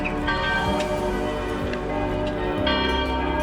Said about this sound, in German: wir hören, es ist Sonntagmorgen. Die Kirche ruft zum Gebet. Also eines sind ja die Glocken.